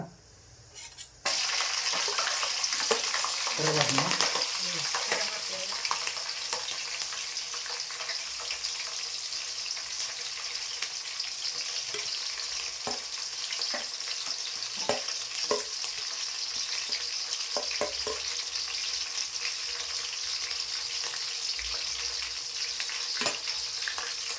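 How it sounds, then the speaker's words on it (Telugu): Green chillies frying in a pan for a tuna fish curry, a steady close sizzle and crackle running nearly the whole time after a brief quiet start, with occasional stirring clinks and no talking. "పచ్చిమిర్చి కొంచెం దూర వేగిన తర్వాత ఉల్లిగడ్డ వేయాలి ఇప్పుడు"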